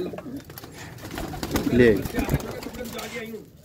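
Close soft cooing from a female pigeon rises briefly in the middle, mixed with someone talking nearby and faint background noise.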